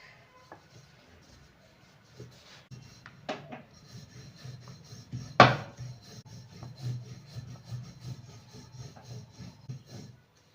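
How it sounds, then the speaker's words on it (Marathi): A rolling pin rubs and rolls back and forth over sesame-filled flatbread dough in soft, uneven wooden scrapes, close by, with one sharper knock partway through. "आता आपण पोळी लाटून घेऊया"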